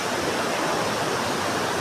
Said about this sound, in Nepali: हेर्नुहुन्छ खोला चाहिँ यो